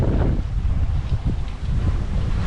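Steady wind roars across a sailboat at sea during a solo passage to Catalina Island, a loud low buffeting rush against the microphone with no voices.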